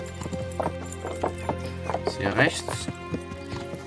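Horse hooves clip-clopping at a steady galloping rhythm in the medieval game Kingdom Come: Deliverance, fairly close and continuous, with a voice speaking briefly over them.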